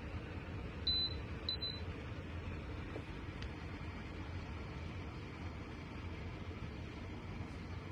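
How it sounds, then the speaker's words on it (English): Two short electronic beeps in quick succession near the start as a Sunnote space heater's child lock is enabled, then a steady low hum of background noise with no talking. "And if you press this 3 seconds, it will beep"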